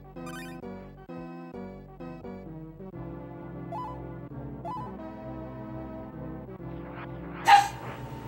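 A tiny seven-pound dog yaps and barks repeatedly indoors, sharp high yips in quick bursts heard over steady game music.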